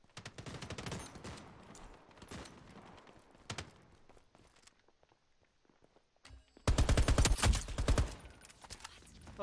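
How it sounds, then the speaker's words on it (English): Bursts of gunfire from the online PvP shooter Veiled Experts crackle in repeated volleys, scattered quieter shots and steps between them, then a loud sustained barrage near the end. "How are they shooting? Where are they shooting from?"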